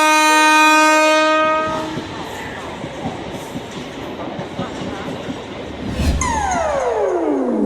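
A cartoon train pulls away, its loud horn sounding at first over a rumbling, clattering rail roar that stays steady, then a sharp clank and a descending whistle-like tone near the end.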